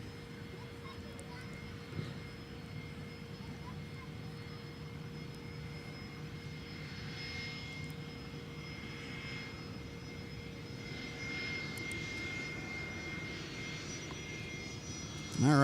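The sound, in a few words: Delta airliner taking off from runway 12 right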